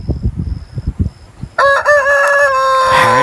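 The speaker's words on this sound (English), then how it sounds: "Hen," Chicken calls: a run of short, low clucks gives way to a loud, drawn-out crow that rings on for over a second at close range.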